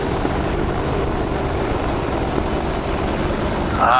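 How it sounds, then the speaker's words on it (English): Kamov attack helicopters in the DCS combat flight simulator fly past, a steady, loud rotor and engine drone that fills the whole stretch without letting up. "9 o'clock, 2 miles. Hostile helicopters."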